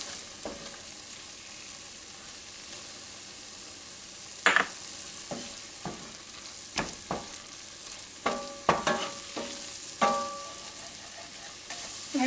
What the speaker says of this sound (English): Now I'm going to sprinkle in a couple tablespoons of flour